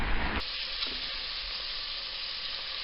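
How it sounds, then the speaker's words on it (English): Sliced onions gently frying in oil in a pan give a steady, close sizzle that carries on without a break, with a faint stir or clatter near the start. "I've got all my onions sliced and gently frying away in a pan with some oil"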